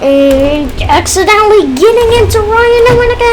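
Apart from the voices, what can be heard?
No distinct noise like a dog, phone or traffic.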